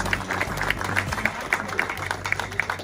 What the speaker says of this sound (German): Das ist, glaube ich, ein kleiner Applaus wert